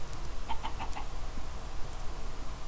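Short clucks from a chicken in a video game, four quick rising calls in a row over a steady low ambient hum, fairly close and moderately loud.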